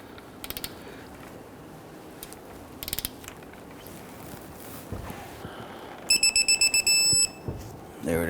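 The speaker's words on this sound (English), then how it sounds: "Torque down our lower knuckle to control arm bolt to" A torque wrench tightens the lower knuckle-to-control-arm bolt on the rear suspension of a 2010-2019 Ford Taurus, with short metallic ratcheting bursts spread through the clip and a faster run of rapid clicks near the end.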